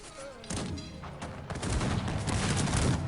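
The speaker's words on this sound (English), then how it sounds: "Grenadiers shooting." Grenadiers firing a volley in a real-time strategy battle game, a dense crackling fusillade of overlapping musket shots that starts near the half-second mark and swells into a sustained, loud roll of gunfire with low thuds underneath.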